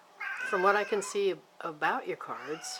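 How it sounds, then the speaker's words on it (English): A house cat meows repeatedly in drawn-out, rising and falling cries, close and fairly loud, overlapping with a person talking steadily. "pardon my noisy cat"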